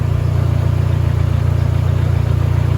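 A Dodge SRT4 engine runs steadily at idle, a loud continuous low drone with a faint high squeal from a worn drive belt riding over it, no voices.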